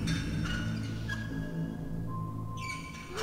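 Ennard, an animatronic from FNAF, heard in Garry's Mod: an eerie, steady electronic drone with gliding synthetic tones and squeaky pitch sweeps that rise toward the end.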